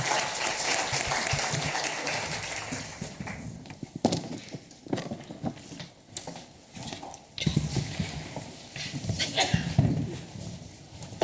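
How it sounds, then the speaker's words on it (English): An audience at a live-streamed medical technology event applauds presenters, the clapping uneven with scattered louder claps and shifting intensity throughout. "So a round of applause."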